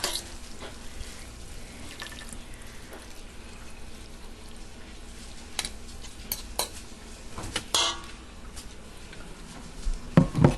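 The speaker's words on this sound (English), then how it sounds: "I'm going to grab a bowl out of the cupboard. And I'm going to dish some of these up." Food is dished into a bowl in a home kitchen, with soft clinks of utensils and dishware, scraping and a few sharper knocks over a low, steady background, all quiet and close with no talk.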